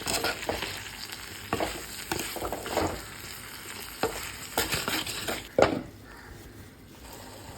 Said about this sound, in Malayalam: രണ്ടു മൂന്ന് പ്രാവശ്യം ഇതുപോലെ ഇളക്കി ഇട്ടു അടച്ചു വെച്ച് കൊടുക്കണം